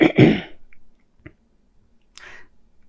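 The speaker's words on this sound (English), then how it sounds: "I'm having to clear my throat" Someone clears their throat sharply at the start, followed by a brief smaller clearing and a soft breathy rasp, with quiet gaps between.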